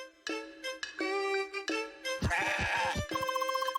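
A goat in the video game CrossCode bleats in a run of short, close, nasal cries, with a game sound effect in between and a brighter repeated chime at the end.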